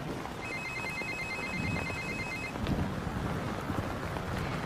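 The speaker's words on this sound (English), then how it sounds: "It's gonna ring in a few seconds. You might want to take the call outside." A telephone bell rings in a steady repeating trill for about two seconds, then stops, leaving a windy, noisy background.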